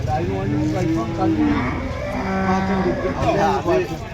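An Andhra buffalo at a livestock market lets out long, deep lowing moos close by, sounding continuously across the clip, with a voice speaking underneath.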